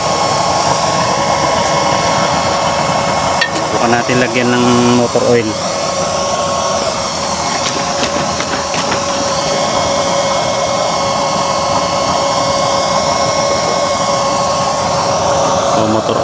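A homemade waste-oil stove burner with a 24-hole nozzle and 3-inch chamber roars loudly and steadily, a constant forced-air blast throughout, with someone talking briefly over it early on.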